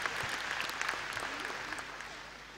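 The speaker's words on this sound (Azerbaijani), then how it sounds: "bir alqışlar onların da şərəfinə" A concert audience at the Heydar Aliyev Palace applauds in a dense, steady burst of clapping that fills the hall, fading slightly toward the end.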